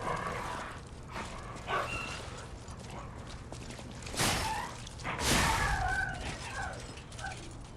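A dog barking in the Lies of P action game, a few loud harsh barks standing out over a dense, noisy game soundscape, with bursts around the middle and toward the end.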